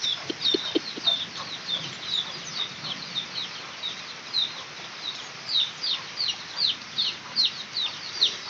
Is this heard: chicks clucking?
yes